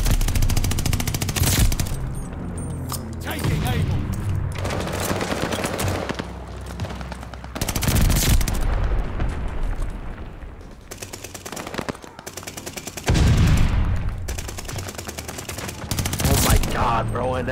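Bursts of light machine gun fire in a Call of Duty multiplayer match, loud sustained volleys of rapid shots repeating in several long strings with brief gaps between them.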